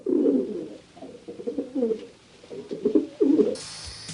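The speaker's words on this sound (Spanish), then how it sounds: "el nombre del sonido que emiten la paloma y la tórtola. Se llama arrullo" A dove coos in soft, low, repeated phrases, a gentle rhythmic series of hoots close by, followed by a brief hiss at the end.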